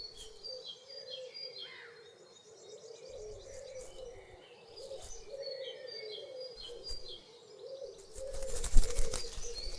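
A male blackbird with black plumage calls outdoors, giving scattered chirps and short whistled notes at moderate distance over a low steady background drone, ending in a louder burst of rustling, flapping-like noise.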